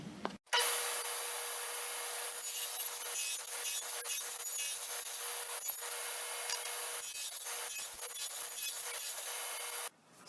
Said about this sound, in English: So I'm going to lower my blade to 1/4 and test cut one of these and see if it fits